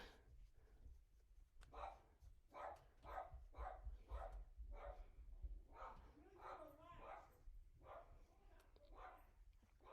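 Repeated barks from a dog, sharp and fairly close, in an irregular series of yaps over a steady low background hum.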